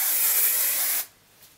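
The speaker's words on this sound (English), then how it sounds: "so just keep spraying" Hairspray sprayed onto curled thick hair, one steady aerosol hiss lasting about a second, close and loud, then cutting off abruptly.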